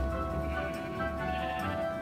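A sheep bleats in a Minecraft survival game set in a frozen wasteland, a steady blocky animal cry lasting a couple of seconds over a constant droning game background, with no talking.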